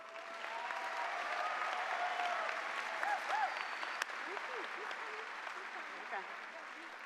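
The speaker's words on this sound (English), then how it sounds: "Another round of applause, please." A graduation audience applauds the choir at a high school ceremony, a broad sustained wash of clapping from a large crowd with scattered cheers and whoops rising over it.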